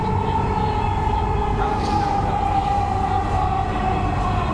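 A metro rail train in Bangladesh pulls into Uttara North, the last station, with a loud, steady mechanical rumble and a sustained whine heard from on board.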